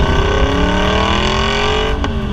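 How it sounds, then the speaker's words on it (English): An Aston Martin V8 Vantage GT's V8 engine sounds loud and close, holding a steady high-revving roar with rising harmonic tones, and no talking over it. "That V8 really loves to run up into the rev range."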